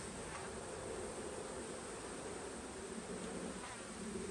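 Honey bees swarming thickly over an open hive during a colony inspection, a dense, even buzz that stays close and constant throughout, with no voices.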